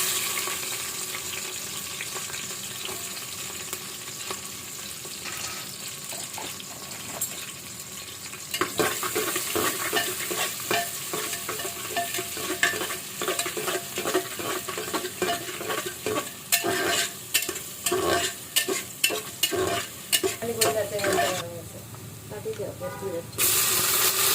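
Cloves, bay leaf, onion and green chili fry in hot oil as the base for a red beef curry. A steady sizzle runs through the whole stretch, with louder stirring and scraping later on and talk over parts of it.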